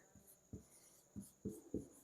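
Chalk or marker writing on a board, five short scratchy strokes in an uneven rhythm, close and fairly faint against a quiet room.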